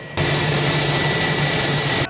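Loud, steady roar of a jet airliner at Lviv airport, a broad whine that starts abruptly and then holds close and constant with no voices.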